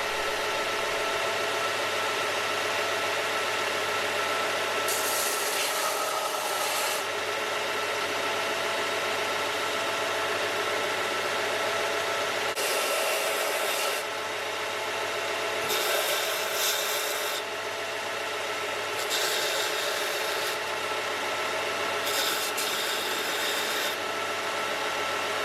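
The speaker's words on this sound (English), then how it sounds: "onto the belt sander or linisher" A belt sander, or linisher, grinds an indestructible shoe, a loud, continuous whirring drone with harsh raspy bursts each time the shoe is pressed against the belt, repeated several times.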